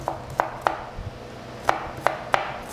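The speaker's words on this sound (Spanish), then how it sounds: "Y estoy picando el pimiento" Knife chopping onion and bell pepper on a cutting board in a home kitchen, seven crisp, fairly close knife strikes in an uneven rhythm, with no talking.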